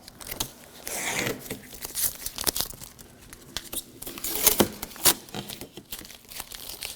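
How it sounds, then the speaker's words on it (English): Adhesive tape is peeled off the rear door window glass of a 2007-2013 BMW 328i, a close, uneven run of crackling, tearing and crinkling sounds with sharp snaps scattered through it. "Now carefully take the tape off."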